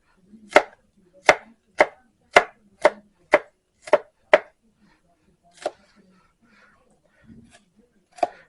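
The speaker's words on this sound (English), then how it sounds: "And that's my onion cutting skills." An onion chopped on a board with a knife, about ten sharp, evenly spaced chops in quick succession, then a pause and a few scattered cuts, close and clear with no other sound.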